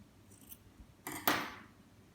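Scissors snip through material while a craft dog-in-a-cup puppet is made, a few faint clicks followed by one louder, crisp cut, close and quiet.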